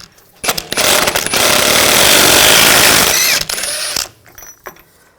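A BMW X5 front axle nut is loosened with a 36mm 12-point socket, making a loud sustained mechanical whir and grinding for about three seconds, framed by short clicks and clatter, close up with no talking.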